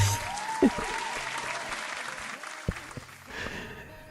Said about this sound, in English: Why am I clapping when I have someone who can clap for me?